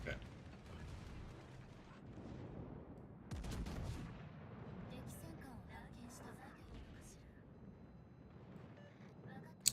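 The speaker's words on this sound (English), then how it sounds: "I am shooting with all my secondary batteries, but I am burning to death." Warship secondary batteries fire in World of Warships, a busy mix of muffled booms and mechanical rattling at low level, with a heavier cluster of shots midway, under a player talking.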